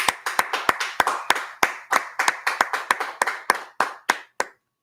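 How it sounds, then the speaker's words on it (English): A group of people in a law class clap in rhythmic bursts, roughly twenty sharp, loud claps over a few seconds, fairly close and unaccompanied, ending abruptly. "Let's go ahead and clap it up."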